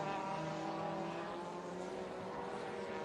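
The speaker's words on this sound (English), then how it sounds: "Air Lachey's Lada was running right out wide there, just squeezed inside the tyre stack." Lada touring cars racing in the WTCC at Qatar, heard as a steady, loud engine drone from cars at speed that holds evenly throughout, with no talk.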